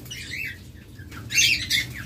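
Caged diamond doves, several birds in one enclosure, give short squawking calls and chirps in two bursts, the second louder, over a low steady background hum with no talking.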